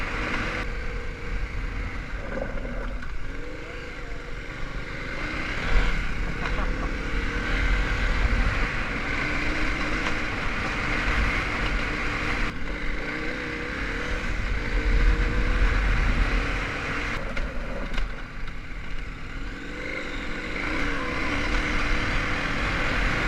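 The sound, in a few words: KTM 1190 motorcycle engine during test ride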